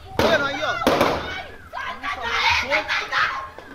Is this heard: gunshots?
yes